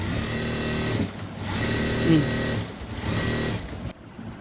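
A sewing machine stitches the seams of a blouse in steady close-up runs, whirring and rattling with brief pauses between bursts.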